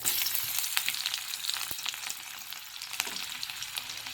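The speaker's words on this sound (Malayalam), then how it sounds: "കടുകിട്ടു മുളകിട്ടു ഇനി നമുക്ക് വെളുത്തുള്ളി ഇടാം" Garlic dropped into hot oil already crackling with mustard seeds and chilli, a steady close sizzle with sharp spits and pops scattered across it, fairly quiet, with no talking.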